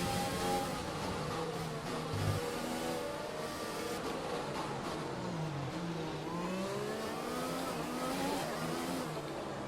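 An F1 car in F1 2020 at Monaco snaps into oversteer, its high-revving engine droning and sweeping up and down through gear changes, loud and continuous with other cars' engines layered underneath.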